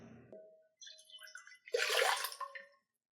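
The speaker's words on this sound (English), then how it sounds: "we're going to add some pasta water" Pasta water, about 16 ounces, poured into a Dutch oven holding rendered fat, a short clink followed by a loud, rushing splash that sizzles and fades, close up with no voices.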